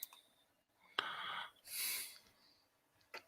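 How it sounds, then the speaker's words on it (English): Breathing carried over a live stream connection: a few slow, airy inhales and exhales with a wheezy edge, faint and close-miked, no voices alongside. "Like I can hear you breathing."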